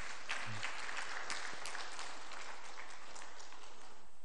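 A church congregation applauds the choir, a quiet, steady patter of many hands clapping at a distance, even and unbroken throughout.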